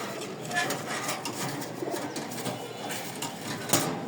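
High-flying pigeons kept in pairs at a seller's loft make soft, repeated cooing with light rustling and occasional wing movement, close by and moderately quiet.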